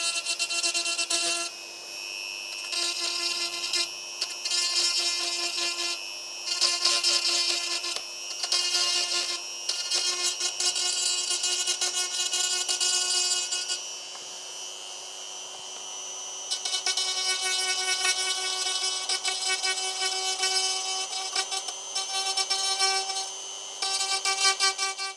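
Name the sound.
Dremel rotary tool cleaning up cut Game Boy Pocket plastic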